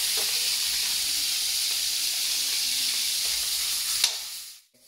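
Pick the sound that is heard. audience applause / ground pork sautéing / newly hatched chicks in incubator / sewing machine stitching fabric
ground pork sautéing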